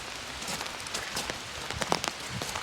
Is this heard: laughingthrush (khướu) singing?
no